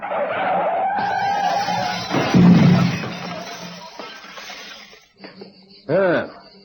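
A car's windshield smashes through a glass mirror in a radio drama, with a burst of shattering glass and skidding under tense voices, then quieter rattling and a short final crash.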